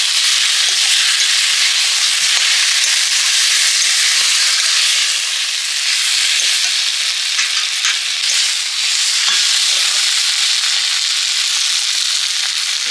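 Boiled yam and potato go into a hot pan and are stirred, giving a loud continuous sizzle with crackling spatters and scraping throughout.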